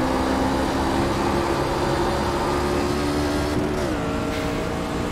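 Truck engine in an iRacing race at Gateway, a steady loud drone that rises in pitch as it accelerates, with a brief dip near the end as it shifts or lifts.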